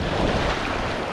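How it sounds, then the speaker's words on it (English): Ocean surf breaking at Nang Rong beach in Thailand, a steady, loud broadband wash of waves close by with wind buffeting the microphone, no talking. "Whoa, big surf there."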